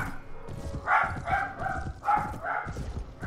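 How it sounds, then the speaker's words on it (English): Several dogs bark and yip in a quick uneven series, moderately close, within a medieval battle setting in Mount & Blade Warband. "Dogs are going nuts today."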